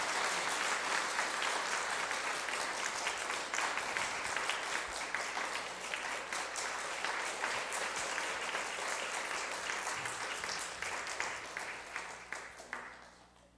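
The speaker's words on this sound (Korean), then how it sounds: "박수로 축하드립니다" Steady applause from a church congregation during a Sunday worship service, a dense wash of clapping that carries on for many seconds before fading at the end.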